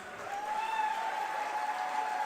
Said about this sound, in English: let's have the loudest round of applause